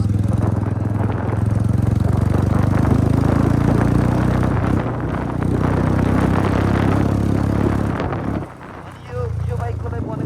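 Royal Enfield Bullet motorcycle fitted with a loud Akrapovič exhaust, idling with a deep, thumping, tractor-like beat that runs steadily, dips briefly near the end, then picks back up, while someone talks over it.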